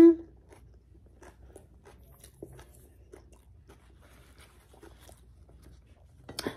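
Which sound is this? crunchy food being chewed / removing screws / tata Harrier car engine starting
crunchy food being chewed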